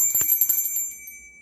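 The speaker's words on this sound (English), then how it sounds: "ring this bell 3 times" A small bell, such as a bicycle-style bell, is rung several times in quick succession; each bright strike leaves a clear high ring that fades away.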